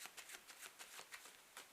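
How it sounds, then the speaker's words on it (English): A deck of playing cards is worked through a false overhand shuffle, giving soft, quick riffling slaps at a regular pace, close and quiet with no voice. "So this is the full false overhand shuffle."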